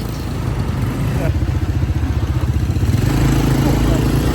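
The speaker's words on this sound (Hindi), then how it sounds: "All set for the ATV ride." An ATV engine idling and revving before a ride in Phuket, a loud close throbbing putter that grows steadier and fuller toward the end, with people talking nearby.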